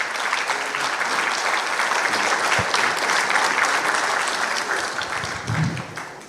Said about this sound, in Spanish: los recibimos por favor con un fuerte aplauso.